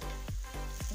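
Chili, turmeric and coriander powders sizzle in a pan of oil for a prawn masala curry, giving a steady close frying hiss broken by a few soft stirring scrapes.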